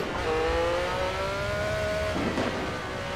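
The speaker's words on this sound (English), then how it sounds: "I don't know if you can hear that backfire." Ferrari 312T Formula One racer in a VR driving game, its engine revving high with a steady rising tone, then a sharp crackle of backfire after the lift-off, close and prominent.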